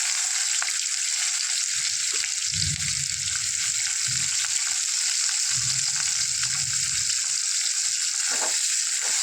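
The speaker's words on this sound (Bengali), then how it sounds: "এরপর পেঁয়াজটা হালকা করে ভেজে নেব, লাল হয়ে যাওয়া পর্যন্ত" Chopped onions frying in a pan for a bottle gourd and shrimp dish, giving a steady close sizzle with bursts of stirring and scraping, no voices present.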